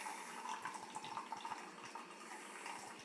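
A small drip coffee maker with a lighted water tank brews, giving a soft, steady trickle and gurgle of water that continues evenly throughout, faint and close.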